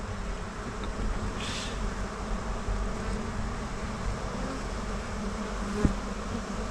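Bees buzz steadily around the listener, a dense continuous hum at low-to-moderate volume with one brief louder insect passing close.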